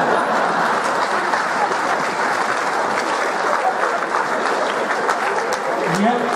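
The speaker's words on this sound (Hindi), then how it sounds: "ये तालियां बजाने वाली बात नहीं थी" An audience at a Hindi comedy poetry gathering in Jaipur claps loudly and continuously, a thick, steady roar of applause from a large crowd with voices faintly underneath.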